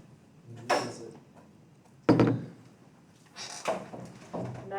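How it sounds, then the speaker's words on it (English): A classroom door is handled nearby: a clattering bang, then a louder thud of the latch and frame, followed by a few softer knocks and rattles. "Nathan, can you get the door for me?"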